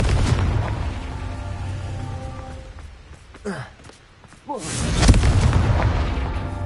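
A Confringo blasting spell explodes in the Hogwarts Legacy video game: loud booming bursts amid battle noise, with a brief swooping whoosh midway and a strong blast near the end.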